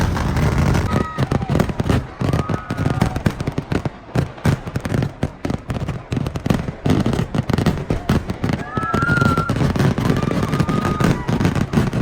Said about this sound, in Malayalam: ഇനി എന്തായാലും നമുക്ക് വെടിക്കെട്ട് കാണാം.